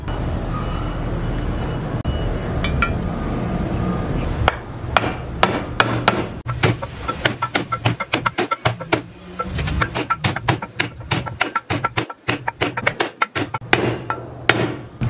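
Hammering a socket to drive a repacked bearing into a scooter swing arm housing: a long run of loud, sharp metallic blows in quick, uneven rhythm, with quieter shop noise before the strikes begin.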